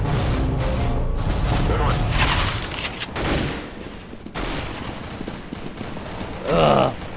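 Rapid automatic gunfire in Counter-Strike: Global Offensive, with dense bursts of machine gun fire that run loud for a few seconds, then sparser shots and game effects, and a short bright burst near the end.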